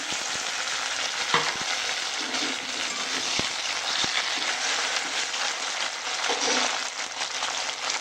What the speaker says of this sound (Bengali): ওই মাছ ভাজার তেলেই পেঁয়াজ দিয়ে দিলাম পেঁয়াজটা সুন্দর করে ভাজা হয়ে গেছে এবার কেটে রাখা টমেটো আর কাঁচা লঙ্কা দিয়ে দিলাম